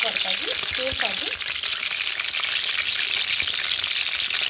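Okra frying in hot oil for an Andhra village-style chutney, a dense, bright crackling sizzle filling the clip, close and steady, with a brief voice-like sound at the start.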